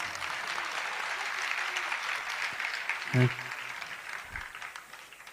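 A congregation at a Jain religious discourse by Acharya Vidyasagar ji Maharaj claps steadily in a dense, even wash, with a brief low thump midway and the applause tapering slightly toward the end.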